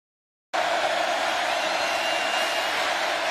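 Stadium crowd noise at Kyle Field during a college football game kicks in abruptly after a brief silence, then holds as a loud, steady roar.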